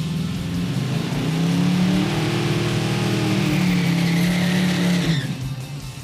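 A Chevrolet Nova drag car at a racetrack, air cleaner off, roars loudly as it accelerates through a rolling burnout, its engine note rising over hissing tire squeal for several seconds before fading slightly at the end.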